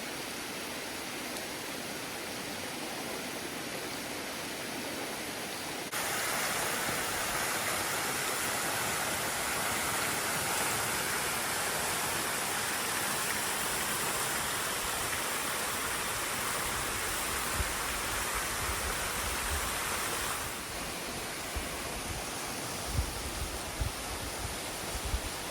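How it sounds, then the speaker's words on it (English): A waterfall in the Grand Canyon pours in a steady, loud broadband rush that swells after a few seconds and holds for a long stretch before easing slightly near the end, with no voices. "This is an incredible waterfall."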